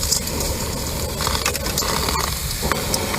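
Mantis shrimp go into a hot pan to make caramel mantis shrimp, sending up a loud, continuous, close sizzle with crackling spits.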